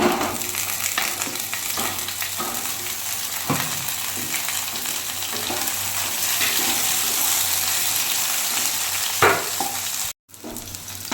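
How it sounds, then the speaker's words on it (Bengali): Pointed gourd (potol) frying in oil in a wok used earlier for paneer, a steady continuous sizzle with occasional stirring scrapes, close and alone, ending with a brief sharp break. "পনির ভাজার কড়াইয়ে আমি পটলটা ভেজে নেব।"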